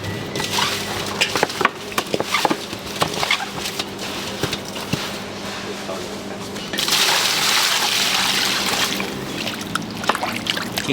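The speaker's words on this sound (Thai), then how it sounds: "เราจะต้องเอาน้ำเกลือล้างก่อน" Braised pig's feet being rinsed with salt water in a Thai kitchen: close sloshing, trickling and splashing with scattered knocks, swelling into a steadier pour partway through.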